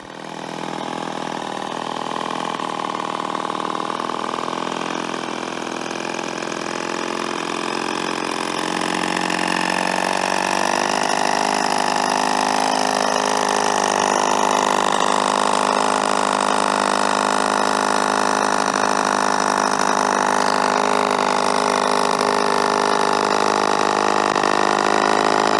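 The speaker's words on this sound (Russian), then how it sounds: "эта конструкция двигателя стала фирменной фишкой Руми" A Moto Rumi Formichino 125 scooter, an all-aluminium two-stroke twin, runs steadily and loudly up close, its buzzing engine note rising slightly in pitch and holding without pause.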